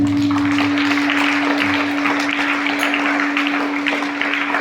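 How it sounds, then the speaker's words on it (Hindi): Steady applause from a crowd fills the whole stretch, dense and even, with a constant electrical hum running underneath. "तो उसके लिए भी एक जोरदार तालियां"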